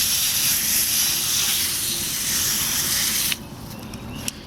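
Water spray hisses steadily and loudly while rinsing dirt from the bumpers of a Traxxas RC car, then cuts off abruptly, leaving quieter dripping and a sharp tap.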